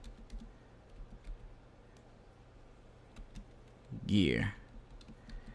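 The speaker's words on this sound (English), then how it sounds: "we're just going to go ahead and just type in Guilty Gear" Someone types on a computer keyboard, entering a search for Guilty Gear: sparse, faint clicks tap out over a quiet room hum, followed by a brief spoken word.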